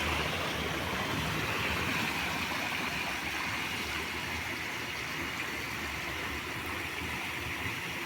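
Water runs downhill along a small mountain stream toward a lake, a steady broadband rush that holds even and unbroken throughout, fairly close and alone with no voices.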